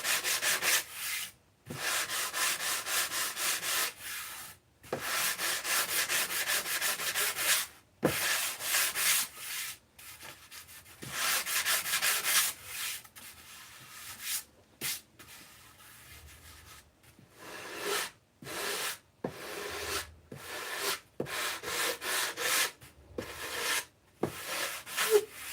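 A foam model aircraft wing is worked with a fine 220-grit sanding bar, giving repeated close, scratchy rubbing strokes in bursts separated by brief pauses, with no talking.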